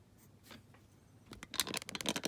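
Pencil sketching a nose on paper, quiet at first, then a quick run of close, scratchy strokes that grow louder and faster toward the end.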